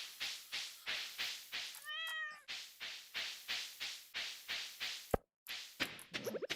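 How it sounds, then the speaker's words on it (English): A cat in the farming game Stardew Valley gives a short rising meow after being petted. Before and after it comes a fast, steady run of soft rhythmic footstep-like thumps, and brief game sound effects follow. "we need to pet our cat"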